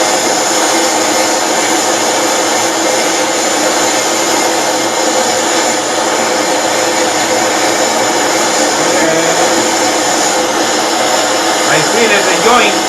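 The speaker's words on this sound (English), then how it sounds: "now I'm welding with a silver" Steady loud roaring hiss of a brazing torch heating a pole spear slip-tip joint with silver solder, continuous and close throughout with no pauses.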